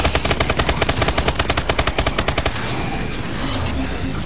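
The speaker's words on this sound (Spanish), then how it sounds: "Mira bien dónde disparas." Rapid automatic gunfire in the PS3 zombie shooter Exo Zombies, a loud steady burst of evenly spaced shots lasting about two and a half seconds, then cutting off into a rumbling game ambience.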